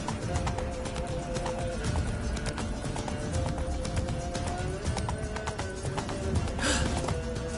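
Horse hooves galloping steadily in The Witcher 3, a continuous rhythmic clip-clop at close range with a brief whinny near the end, over a busy game soundscape with faint voices.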